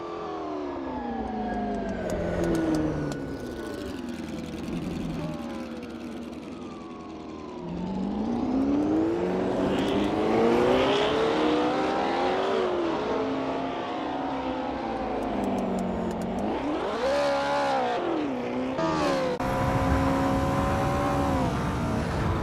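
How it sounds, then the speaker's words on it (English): A Porsche 908 LH race car in the Assetto Corsa game at Longford in a 1960s endurance series session. Its engine stays loud and close throughout, with rising and falling revs through gear changes and repeated accelerations. "Richard Rossier is getting to grips with the Porsche 908 LH in this practice session."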